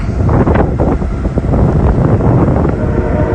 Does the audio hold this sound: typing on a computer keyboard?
no